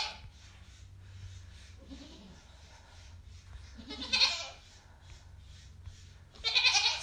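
Baby goats bleat in a few short, fairly faint calls spread across a quiet indoor background hum.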